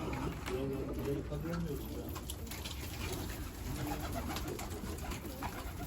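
Pigeons coo softly inside a coop, low repeated calls heard at close range beneath a person talking over a steady background hiss.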